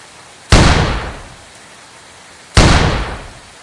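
Two sharp, loud gunshot cracks about two seconds apart, each with a long decaying tail, fired at birds over long range in the off-road driving game Offroad Outlaws.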